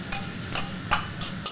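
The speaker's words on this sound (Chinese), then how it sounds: "去筋切薄片的牛舌下锅酥煎" Thinly sliced beef tongue, trimmed of sinew, crisp-frying in a wok at a Cantonese restaurant kitchen, with a steady sizzle broken by four or five rhythmic scraping stirs of the spatula.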